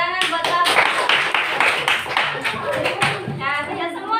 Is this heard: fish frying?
no